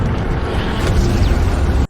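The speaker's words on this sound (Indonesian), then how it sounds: "Jet tempurnya meledak dihantam sama tuh Kraken." A fighter jet blows up in the 2023 film Sky Monster as it is struck by a kraken, a loud, dense roaring blast that fills two seconds before cutting off abruptly.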